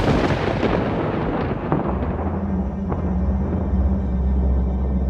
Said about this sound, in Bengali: একটা বাজ পড়ার বিকট শব্দে চারপাশটা কেঁপে উঠল।